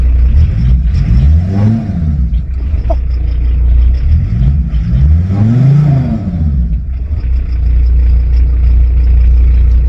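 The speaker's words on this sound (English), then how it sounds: "First turn of the key. Let's give it a rev." A VW T4 van engine, just started after sitting unused for a long time, revs up loudly and close by in two rising surges over a continuous idle rumble, with no voices.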